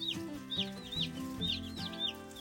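Baby meat chicks peeping, a cluster of small, high-pitched cheeps repeating in quick bursts close by, over a faint steady hum.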